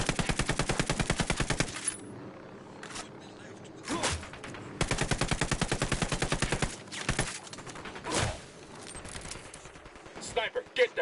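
Rapid machine-gun bursts from a PS4 shooter game, two long sustained volleys with single shots and sharp cracks between them, loud and close, with voices talking underneath.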